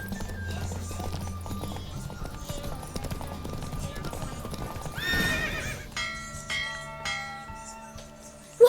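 Horse hooves drum in a fast galloping rhythm during a race in The Witcher 3, with a loud whinny near the middle, then lighter hoofbeats and chiming tones toward the end.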